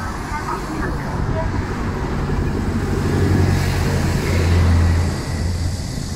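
Street traffic heard while cycling in Beijing's Fengtai District, a steady low roadway rumble of passing cars and buses with a louder vehicle swelling close by near the end; a voice talks over part of it.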